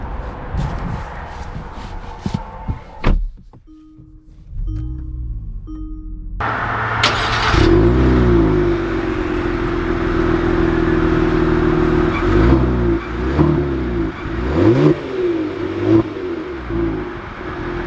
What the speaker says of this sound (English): we are about to set off here on the Stinger